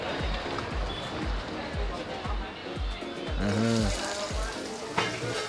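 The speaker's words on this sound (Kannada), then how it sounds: "ಸೊ ಪ್ರಾನ್ಸ್ ಕರಿ ಮಾಡ್ತಾ ಇದ್ದಾರೆ, ಇಲ್ಲೋ ಎಣ್ಣೆ ಬಿಸಿ ಮಾಡ್ತಾ ಇದ್ದಾರೆ." Oil heats and sizzles in a pan while prawn curry is cooked at a seafood stall in Diu's Bandar Chowk, a steady frying hiss with rhythmic clanks of stirring throughout, plus a brief sharp clatter near the end.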